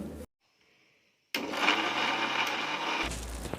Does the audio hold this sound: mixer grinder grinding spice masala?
yes